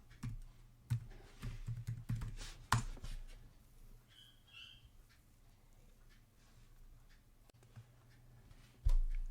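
Sparse, quiet keystrokes on a computer keyboard come in short irregular bursts, followed by a lull and then a louder click near the end.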